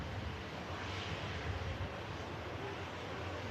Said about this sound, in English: And sending the Airbus A330neo this time.